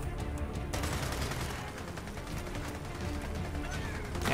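Lancer assault rifle fire from Gears of War 4 rattles in rapid sustained bursts that fill the whole moment, loud and close, with a voice talking faintly underneath.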